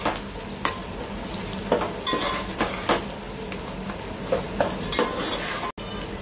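Whole peanuts and spices fry in oil with a soft, steady sizzle, punctuated by repeated scraping and clinking strokes of a spoon stirring the pan, close and fairly quiet.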